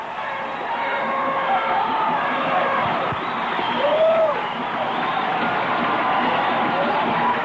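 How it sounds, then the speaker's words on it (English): A football crowd cheering after a touchdown in a 1987 Shaw versus Covington game, a steady, broad roar of many voices with scattered whoops, heard from a distance and holding level throughout. "And the Eagle partisans are cheering him on."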